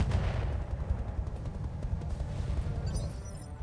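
Weapons fire acid in a mech combat video game, a dense rumbling barrage of repeated booming shots, steady and loud throughout.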